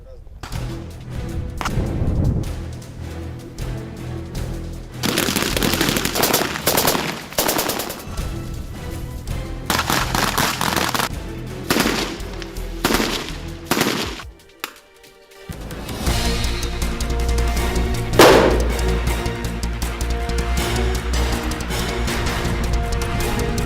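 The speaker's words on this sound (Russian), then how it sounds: "Стрельба по мишеням и прыжки с парашютом производят впечатление на членов делегации." Bursts of automatic and single-shot gunfire during military target practice, loud and rapid with short pauses between volleys, partly overlaid by other sounds.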